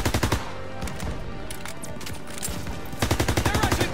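Rapid automatic gunfire from Call of Duty WWII bursts in quick repeated volleys, loud and close, with a short burst at the start, a busier stretch of mixed battle noise, then a longer rattling burst at the end.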